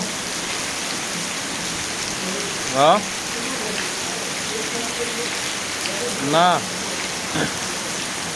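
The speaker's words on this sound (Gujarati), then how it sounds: "હજી વરસાદ ચાલુ" Steady rain in Gujarat patters on a surface throughout, a constant hiss, while a person briefly speaks a couple of short words.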